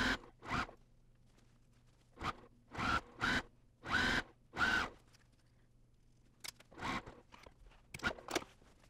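A zipper pull on a zippered cross stitch pillow is slid in a series of short, sharp zips, several in quick pairs, close and fairly quiet with pauses between.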